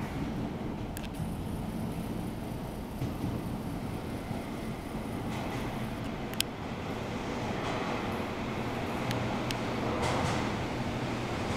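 A Meitetsu 100 series commuter train with VVVF-converted drive pulls into Akaike station, a steady rumble of wheels and motor filling the platform, with faint high squeals and clunks near the end and no talk.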